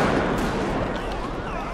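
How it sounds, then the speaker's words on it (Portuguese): Gunfire rattles in GTA 5 during a nighttime police patrol, a dense and continuous crackle of shots that fills the whole moment with no pauses. "Os caras estão atirando, estão atirando."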